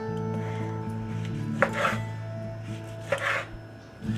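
A knife roughly cuts a tomato into quarters on a cutting board, giving a few distinct chopping knocks spaced over a few seconds against a soft kitchen hum.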